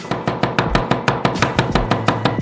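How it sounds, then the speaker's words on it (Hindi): A knife chops garlic quickly on a cutting board, about fifteen sharp, evenly spaced taps in a steady rhythm, close and loud. "लहसुन को कुचल दे, इसे साफ करें और बारीक काट ले"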